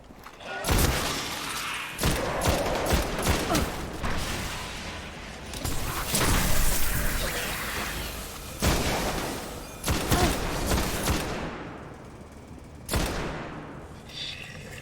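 Shotgun fire in the sci-fi shooter game Destiny: a series of loud, booming blasts in irregular bursts, each with a sharp crack followed by a long rumbling tail.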